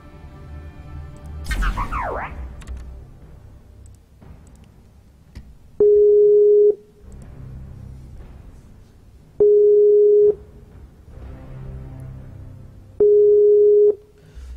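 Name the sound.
Skype call ringing tone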